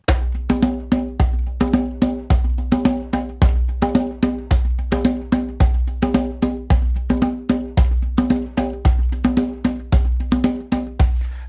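Hand drum played alone in a steady 4/4 rhythm, close and loud, repeating deep booming strokes mixed with sharper slaps in a regular looping pattern.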